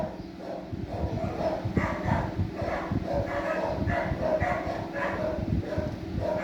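Neighbor's dogs bark in a steady run of repeated yaps and woofs at mid distance, over constant outdoor background noise.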